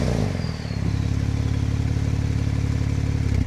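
Porsche 911 Sport Classic engine idling steadily, then blipped with a couple of revs, a loud, close, deep mechanical drone with a rhythmic pulse throughout and no talk.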